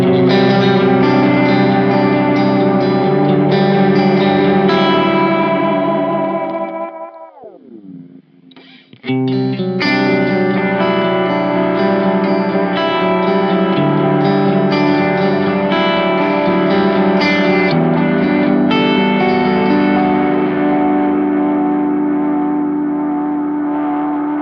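Electric guitar through an Anasounds Utopia Deluxe delay pedal, sustained chords with lush repeating echoes and chorus-like shimmer, a falling pitch swoop mid-way, then ringing washes resume, loud and close.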